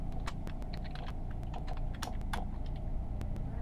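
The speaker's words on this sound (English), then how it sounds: "Dang it, I can't type this in time" Rapid clicking keystrokes on a computer keyboard, a quick irregular patter of sharp taps close by over a low background hum.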